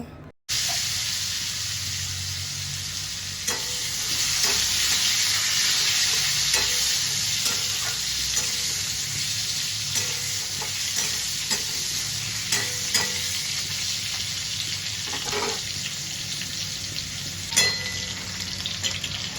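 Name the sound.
potatoes frying in oil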